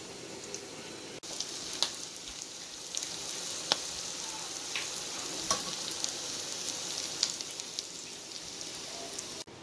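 Crab cakes fry in a pan, four at a time, giving a continuous crackling sizzle with occasional sharper pops and spits; no one speaks.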